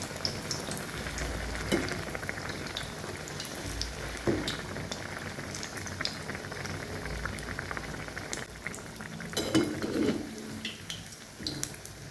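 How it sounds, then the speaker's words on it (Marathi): Bread patties shallow frying in moderately hot oil, a steady soft bubbling sizzle throughout with occasional louder pops and crackles, quiet and close with no talking. "आलटून पलटून दोन्हीकडून तळून घ्यायचं आहे"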